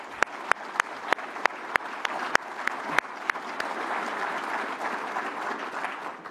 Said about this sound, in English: Let's give the entire AFC team a big round of applause.